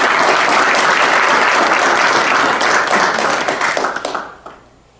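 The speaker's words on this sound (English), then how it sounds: "Let's give him a round of applause." An audience at a high school senior signing day claps in a full, dense round of applause for a student committing to play college tennis, loud and sustained before thinning into scattered claps and fading out.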